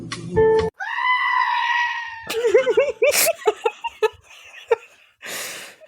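Goat screaming in several loud, wavering, human-like bleats, one long sustained cry followed by shorter shaky calls, close and alone, mixed with a brief musical fragment.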